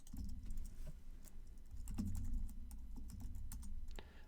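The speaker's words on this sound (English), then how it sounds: "I just got to type the password in here" Someone types a password on a computer keyboard, a quick run of soft, close key clicks in uneven bursts over a low steady background hum.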